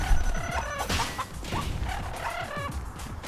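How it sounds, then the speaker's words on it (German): Chickens cluck and squawk in agitated bursts as they attack in the video game Tokyo Jungle, with thuds of impacts mixed among the game sounds. "Oh, die Hühner greifen mich an."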